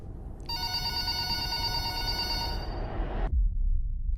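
A single continuous telephone ring, bright and electronic, sounds for about three seconds over low background rumble, then cuts off abruptly.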